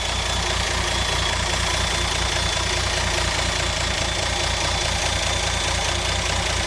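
A 1957 GMC engine idles steadily nearby, its even low rumble and faint ticking running unbroken throughout with no talk over it.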